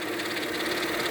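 Steady whining drone from the power steering pump of a 2000 Mercedes-Benz E320 wagon with stiff steering, heard close up with the engine running, a continuous hiss and hum with no talking.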